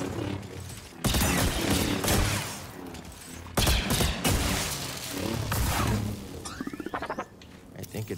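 Droid blaster fire in Star Wars Jedi: Survivor, rapid bursts of sharp laser shots in several loud volleys separated by brief gaps, ending in a stuttering string of quick pulses, with voices talking over the battle.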